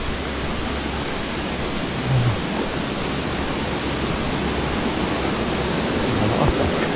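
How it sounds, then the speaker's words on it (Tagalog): Binayoyo Falls roars steadily and loudly as a broad, unbroken wash of rushing water that holds an even level throughout. "Ito na yung Binayoyo Falls."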